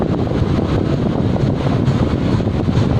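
A steady, close whooshing hum of a repaired electric fan running continuously after spinning slowly, with a low rumble underneath and no voices.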